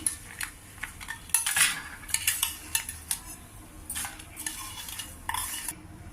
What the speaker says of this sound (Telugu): వేగాయి, మిరపకాయలు వేగాయి